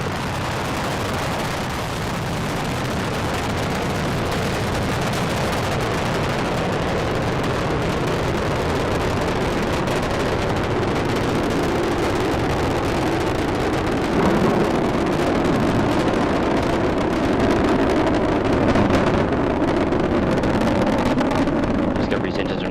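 Space Shuttle Discovery roars during launch ascent, a dense continuous rumble that stays loud and unbroken throughout, with a broadcast commentator speaking over it.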